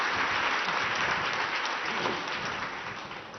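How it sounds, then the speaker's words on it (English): Applause from a conference plenary audience for three panel speakers, a dense, even clapping that fills the room from the start and slowly tapers off toward the end. "Give them a round of applause"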